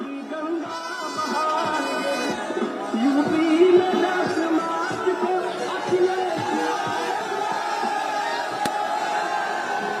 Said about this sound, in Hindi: और यहाँ पे समाजवादी पार्टी के समर्थन वाला गीत भी आप सुन सकते हैं बजता हुआ।